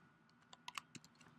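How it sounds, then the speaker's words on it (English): Quick, light clicks of typing on a computer keyboard in a quiet room, a short irregular run of faint keystrokes with no talk. "I'm just going to type it out really fast"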